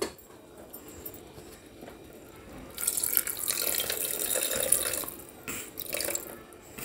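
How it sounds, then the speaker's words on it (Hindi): Water pours into a pan of spiced cucumber curry in a home kitchen, a steady splashing rush that swells in the second half and runs alone without talking. "डालूँगी पानी"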